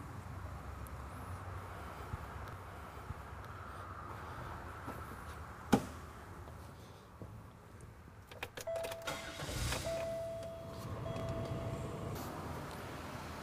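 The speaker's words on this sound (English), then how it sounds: "Next, we're going to start the vehicle." A car engine cranks and catches partway through, then idles with a low steady rumble and some mechanical whine, heard moderately close with no talking.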